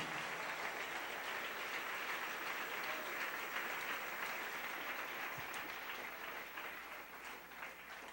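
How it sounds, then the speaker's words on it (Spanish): A church congregation applauds together at a Sunday morning service, a dense, steady wash of many hands clapping that fills the room for the whole stretch with no talk over it, easing slightly toward the end. "Denle un aplauso al Señor en esta preciosa mañana"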